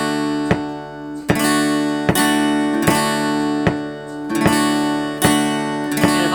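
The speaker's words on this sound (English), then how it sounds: "So the strumming pattern against that would sound like this." Acoustic guitar strummed in a steady pattern against a double-time metronome click, each loud chord ringing out and decaying between strokes, played alone with no voices.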